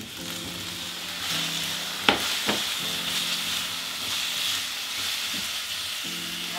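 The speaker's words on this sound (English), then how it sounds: "Next, we're gonna add in our jackfruit." Jackfruit for plant-based tacos sizzles in a hot pan, a steady frying hiss broken by two sharp clatters early on, then continuing evenly at moderate loudness without speech.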